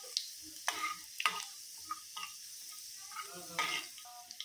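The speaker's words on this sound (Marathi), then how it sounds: "लसूण गोल्डन ब्राऊन होईपर्यंत परतून घ्यायचा आहे।" Chopped garlic sautéing in oil with mustard seeds and cumin, giving a faint, soft sizzle broken by short crackles and spoon scrapes against the pan, close by and without talk.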